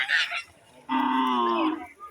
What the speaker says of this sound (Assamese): এয়া গৰুবোৰ পূৰা আহি আছে, গোটেই মানুহবোৰ আহি আছে।